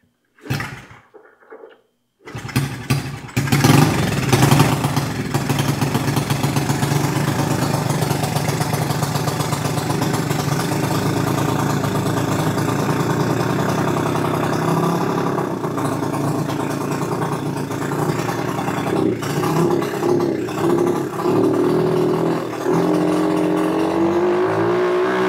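An old dirtbike engine sputtering into life after brief starting attempts, then running loud and close with a rough, steady idle and small revving swells, with fuel in the filter and too much throttle.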